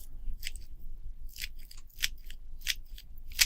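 Lubix speedcube being turned with corner cutting, giving a series of quick, sharp plastic clicks and rasps, about six distinct bursts spaced irregularly, close and fairly crisp with no talking.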